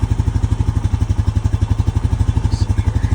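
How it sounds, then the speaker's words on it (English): A Honda Rancher 420 ATV engine idles to warm up, a loud, close, steady thumping pulse with a fast even rhythm and light mechanical clatter throughout. "we want to get the engine up to proper operating temperature"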